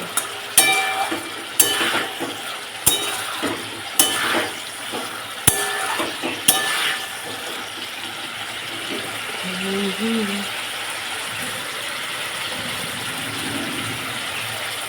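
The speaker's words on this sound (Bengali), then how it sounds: "মাঝে মাঝে এরকমভাবে নেড়ে দেবে নাহলে মশলাটা তো ফুটে যাবে" Spice masala for a fish curry with tengra fish, cauliflower and potato fries in oil and gets stirred now and then, leaving a steady soft sizzle with sharp scraping knocks at the start and a voice speaking over part of it.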